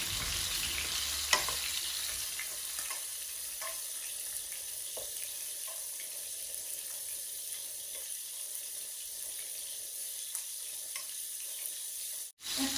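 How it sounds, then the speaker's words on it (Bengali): Garlic, onion and green chili tempering in hot oil for a fish curry, a steady broad sizzle throughout with a few faint clicks of utensils, close and fairly even, briefly cut near the end. "রসুন পেঁয়াজ আর কাঁচামরিচ দিয়া এখন সুন্দর করে একটা বাগার দিলাম।"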